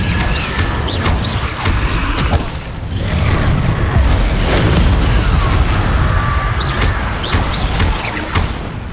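Fiery Incendio spell blasts in Hogwarts Legacy on PS5, a loud, continuous roaring burst of combat booms and rumbling impacts with sharp crackles layered on top.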